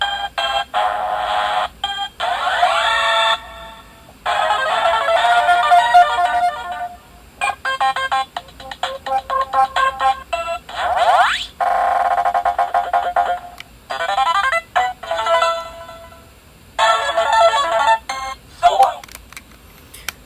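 Electronic beeps and short tone melodies from a Simon Micro handheld game's sound test play in bursts separated by brief gaps, with a voice speaking faintly in between.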